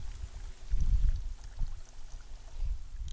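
Water running out through the loosened tubing of a Van Dorn water sampler, a soft low gurgling pour with a couple of louder surges, close by and without talk.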